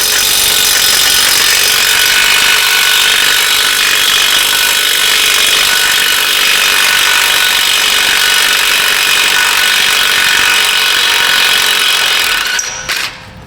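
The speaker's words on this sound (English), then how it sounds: "Looks like 17 mil, and we zippy zap those off. A little 3/8 gun will do it or not." A 3/8-inch impact gun runs in one long, loud, steady burst while spinning off 17 mm nuts on a rusted-out Toyota Prius, then cuts off abruptly near the end.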